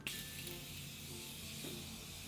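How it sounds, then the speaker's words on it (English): A steady fine hiss of Morphe setting spray misted onto a face, close to the microphone, continuous throughout. "We're gonna set our face first using this Morphe setting spray"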